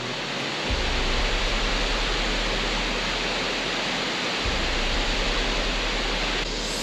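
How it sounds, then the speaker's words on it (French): A powerful waterfall in Taranaki, New Zealand roars as a dense, steady rush of falling water, heard close and loud with no voices. "Ça c'est de la cascade hein."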